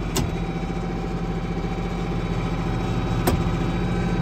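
An IH 1486 tractor engine idles while warming up, a steady, loud diesel rumble that holds an even pitch throughout, with a couple of faint clicks over it.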